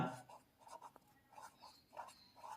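A pen writing a heading on paper for a biology board exam answer sheet, soft scratchy strokes in short rhythmic bursts, close and quiet, with no talk.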